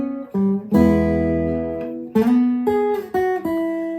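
Guitar plays short notes and a ringing chord on an E shape, with a slide up the neck and bent strings, several plucked attacks in a row, close and clean with no voices.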